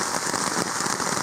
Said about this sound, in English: So I don't know if you can hear me over the rain